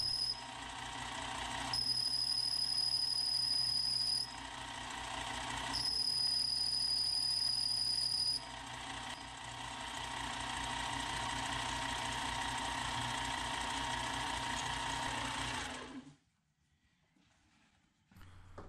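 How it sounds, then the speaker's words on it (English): A machine cuts a 45 degree bevel on the inside edge of a thick metal ring, a loud steady whir with two stretches of high-pitched whine before it abruptly stops. "I'm going to cut a 45 degree bevel on the inside edge of the ring."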